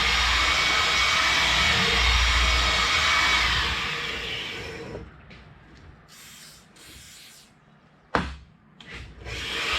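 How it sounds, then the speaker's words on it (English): A hone run through a hydraulic cylinder tube, giving a steady abrasive whirring rasp for several seconds before it stops, followed by quieter scrapes and a sharp knock. "I'm gonna run a hone through the tube real quick, clean it up a little"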